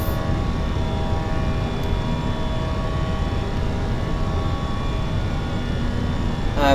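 An American Airlines Airbus A320 roaring through takeoff in Microsoft Flight Simulator 2024, a steady loud jet engine drone with a whining tonal hum that holds for the whole stretch, no voices over it.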